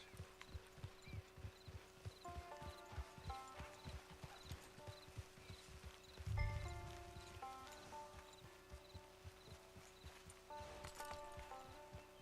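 Horse hooves clip-clop steadily on the ground in the Red Dead Online video game, a close, rhythmic walking gait with a heavier thump partway through and a soft tonal backdrop.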